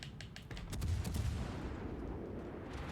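Naval gunfire in World of Warships Legends, a rapid series of sharp shots early on followed by a sustained low rumbling roar, heard fairly close and without talking.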